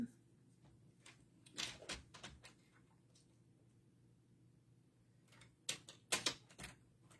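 Card stock being trimmed for a handmade fun fold card, with faint, sparse cutting and slicing sounds in scattered bursts, close and quiet, with no talking over them.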